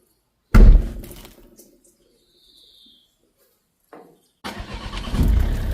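A car engine cranks and fires up loudly, then fades to near quiet before the steady rumble of the car driving off returns toward the end.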